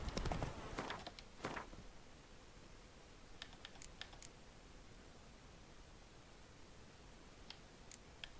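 Roach, a horse in The Witcher 3 video game, sets off with a few loud, sharp hoof clops near the start. Sparse, fainter hoofbeats follow over a quiet background, with no talk.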